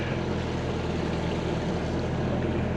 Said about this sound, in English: we're just motoring around with the mainsail up